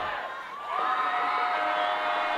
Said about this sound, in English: this crowd who are on their feet, and they got the cowbells going as well